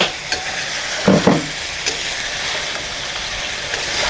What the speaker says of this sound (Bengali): এখন এটাকে ঢাকে ঢাকে এভাবে কষাই নেব